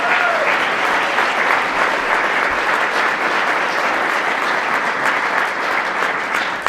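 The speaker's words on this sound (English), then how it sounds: "let's have a big round of applause for all" Loud, sustained clapping from a crowd at a meet-the-candidates night, applauding council candidates in a full, even wash of hands that holds steady from start to finish.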